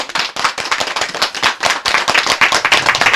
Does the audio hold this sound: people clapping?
yes